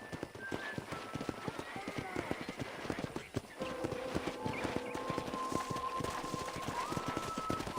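Horse hooves clip-clop at a ranch corral in the Red Dead Redemption video game, a steady walking rhythm of close, fairly faint thuds, with game tones and a voice talking over them.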